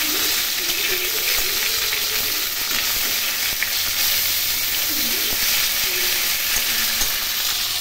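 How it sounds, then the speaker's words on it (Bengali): Bhetki fish fries in hot oil with a loud, even sizzle and crackle that continues without a break, heard close up with no talking. "ভেটকি মাছ ভেজে নিচ্ছি।"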